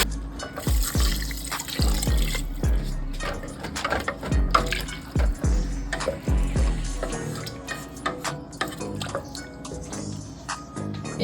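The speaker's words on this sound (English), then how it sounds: "I'm just going to add in my water to that" Water poured into a pot of jambalaya base with tomato paste, giving splashing and gurgling with irregular drips and knocks, moderately close, with no talk.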